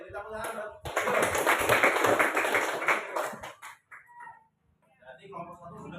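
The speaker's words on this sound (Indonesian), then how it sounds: "beri tepuk tangan" A classroom group claps after a student presentation: a sudden burst of many hands clapping for about three seconds, then fading, with voices talking before and after it.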